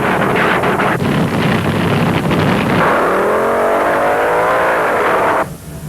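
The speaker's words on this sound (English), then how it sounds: "Both cars get off beautifully, but Denny Darrell gets there first in the M" Two drag racing cars launch off the line at the 1972 UDRA Spring Nationals, a loud, steady roar with wind buffeting, engine pitch sweeping upward as they pull away, then dropping off abruptly near the end.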